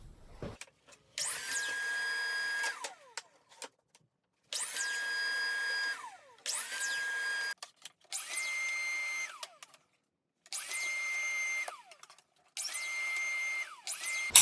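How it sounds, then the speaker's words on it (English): Power saw cutting top and bottom wooden rails for a curio cabinet, in six separate bursts of loud whining cuts with short quiet gaps between them. "So let's cut these top and bottom rails."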